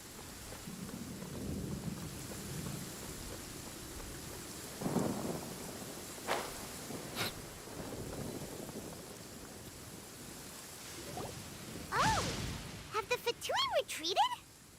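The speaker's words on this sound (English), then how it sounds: "He literally summoned a thunderstorm on us." An enemy in Genshin Impact summons a thunderstorm: low rolling rumbles of thunder and a wash of rain, with several sharper cracks, and brief voiced sounds near the end.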